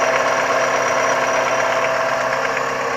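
An Opel Vectra C with the Z22SE engine idling with a knocking fault, a steady close mechanical hum and clatter with faint rapid ticking and no talk.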